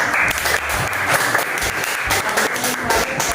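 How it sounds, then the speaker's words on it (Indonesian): A class of elementary school pupils applauds steadily, dense clapping filling the classroom at a fairly loud, even level with no pauses. "tadi kelompok 3 kita beri tepuk tangan"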